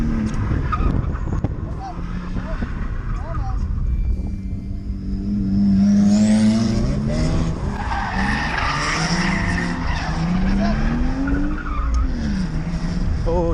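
BMW drift car at a drift event, engine revving hard with tires skidding and squealing continuously, loud and close, with voices talking over it.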